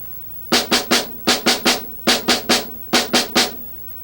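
Nine crisp snare strokes, the primary strokes of a five-stroke roll, in three evenly spaced groups of three, each hit sharp and close, with brief gaps between groups.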